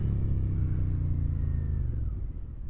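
Suzuki SV650 motorcycle engine under way, a steady low engine drone with gear changes during a downshift, loud and close, no talking.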